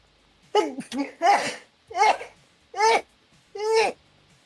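A person sneezes indoors, a short cluster of sharp, breathy vocal bursts close to the microphone, several quick explosive sounds in a row with quiet in between.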